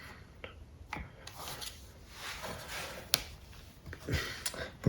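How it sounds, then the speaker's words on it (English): Woodworking clamp being set in place on a glued-up rolling pin, with scattered rubbing, scraping and sharp wooden clicks and knocks close by at irregular intervals. "We are going to put this clamp in"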